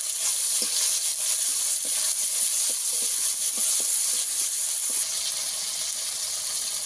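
Chopped tomatoes frying in hot oil for a spicy bhetki fish curry with taro stolons, giving a loud continuous hissing sizzle with faint scattered stirring ticks, easing slightly near the end.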